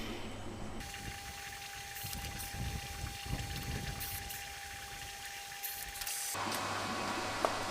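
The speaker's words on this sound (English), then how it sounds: "the water change system just turned on" Aquarium water change system pump switching on and running with a steady hum and gushing, splashing water for several seconds before cutting off, close and fairly quiet against a low background drone.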